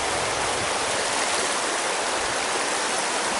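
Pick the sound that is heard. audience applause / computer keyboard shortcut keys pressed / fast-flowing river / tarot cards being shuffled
fast-flowing river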